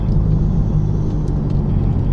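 A BMW M car on a track roars under hard acceleration out of a corner, a loud, close, steady low engine drone with rumble throughout.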